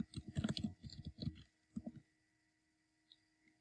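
Computer keyboard typing in a short quick burst of soft clicky keystrokes for about two seconds, close and quiet, followed by near silence with a couple of faint clicks.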